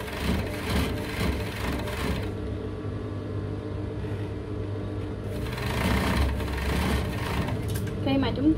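A sewing machine stitching three layers of T-shirt fabric together at a collar, giving a steady close mechanical whirring hum that surges near the end, with someone talking over it.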